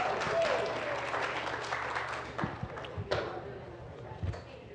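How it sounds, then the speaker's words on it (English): Audience applause at a Spirit of Nature runway show event, a dense steady patter of clapping from a crowd, moderately loud throughout, with a few louder thumps near the end and murmured voices underneath. "let's give Vicki and her crew a round of applause"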